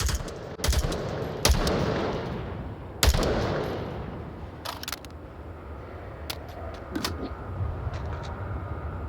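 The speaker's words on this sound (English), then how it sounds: "Zach's shooting at the man." Gunfire in a competitive first-person shooter match: several sharp, loud shots and short bursts, spaced irregularly, standing out over steady game ambience with no talk.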